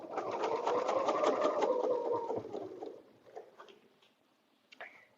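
A sewing machine quilting a butterfly bed runner whirs close and steadily for about two and a half seconds, then stops, leaving a few faint clicks and small handling sounds.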